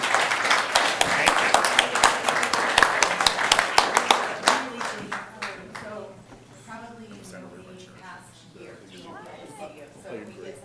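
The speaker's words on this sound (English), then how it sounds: "can we clap for all of them all as a combined group?" An audience at a city council meeting claps loudly for about five seconds, then the clapping thins out and people talk nearby.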